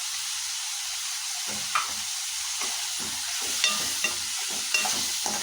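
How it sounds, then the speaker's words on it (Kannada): Cinnamon, cloves and sesame seeds fry in a pan with a steady high sizzle, joined from midway by stirring that brings a run of scrapes and small clinks against the pan. "ಚಕ್ಕೆ ಹಾಗೆ ಒಂದೆರಡು ಲವಂಗ ಹಾಗೆ ಸ್ವಲ್ಪ ಎಳ್ಳು ಇದನ್ನೆಲ್ಲ ಹಾಕಿ ಫ್ರೈ ಮಾಡ್ತೀನಿ"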